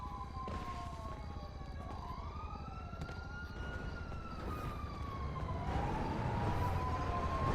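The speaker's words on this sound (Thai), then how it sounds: "เสียงหวอมาแล้วครับ" Police siren in the video game GTA V, a wailing rise-and-fall tone sweeping up and down over steady engine and street noise, growing slightly louder toward the end.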